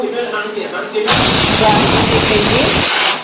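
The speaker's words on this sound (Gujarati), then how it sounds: "એક જ છીટી થવા દેવાની" A pressure cooker boiling nagod herbal water lets off its whistle: a loud, steady hiss of escaping steam starts abruptly and runs for about two seconds before cutting off, with a voice speaking before it begins.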